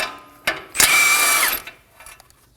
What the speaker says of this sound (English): Using a 22mm socket, go ahead and remove this nut.